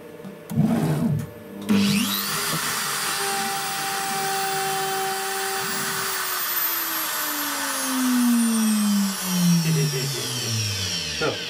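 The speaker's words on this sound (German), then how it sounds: "Fräser ist ein 4 mm Einschneider." A CNC router cuts 12 mm plywood with a 4 mm single-flute cutter, giving a steady high-pitched whine and rasp over about eleven seconds, with the spindle tone shifting as the tool moves and a few brief louder bursts early on.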